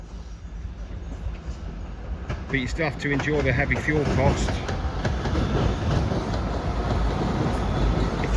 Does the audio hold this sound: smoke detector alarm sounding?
no